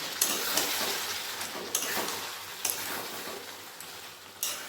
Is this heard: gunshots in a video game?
no